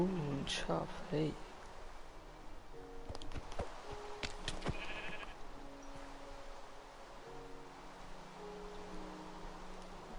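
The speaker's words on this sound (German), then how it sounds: "Oh, ein Schaf, hey." Game sheep in Minecraft bleat in short wavering calls that stand out early on, mixed with game sounds and rustling while someone talks over much of it.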